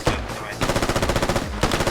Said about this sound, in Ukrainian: Стріляємо по ним.